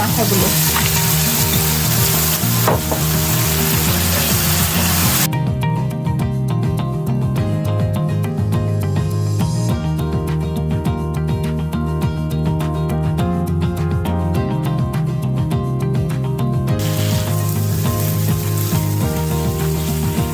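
Fish heads hit a pan of well-cooked spice masala and fry with a loud, steady sizzle that runs throughout, with stirring scrapes mixed in and background music underneath; no one speaks.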